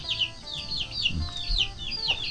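Chickens cluck repeatedly in a rural Thai morning setting, a rapid series of close, bright clucks running throughout, with faint low rustling and background noise underneath.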